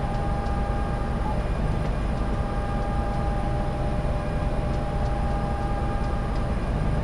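In Train Simulator 2020, a heavy Conrail coal drag grinds up a steep grade near Gallitzin with a continuous deep droning rumble and faint tonal engine whine, even in level with no pauses or voices.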